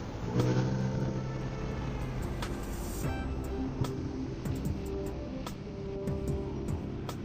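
An older Yamaha Nmax scooter rides along a road, its engine a steady, close drone with road and wind rumble running unbroken throughout.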